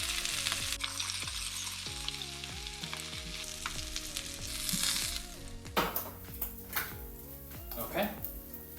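IKEA Swedish meatballs browning in a pan give a continuous oily sizzle with scraping stirs, heard under steady talk close by.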